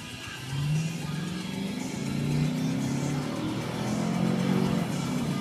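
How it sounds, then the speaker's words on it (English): A 2005 Cadillac Escalade pulls hard under throttle, its engine note rising and then dropping at each gear shift, with two or three climbing sweeps heard from inside the cabin. "I'm going to give it some gas, show you how it shifts, how it accelerates, how this bad boy runs out."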